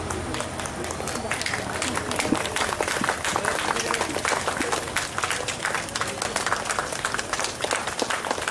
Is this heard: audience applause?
yes